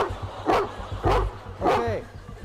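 A police dog gives three loud, close barks at a steady rhythm, with a whimpering, yelping quality and low thumps in the background.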